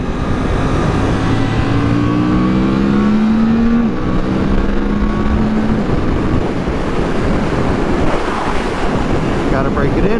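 Suzuki GSX-8S motorcycle accelerating up a highway on-ramp, engine note rising through several gear changes under heavy wind rush, loud and continuous, with no talk.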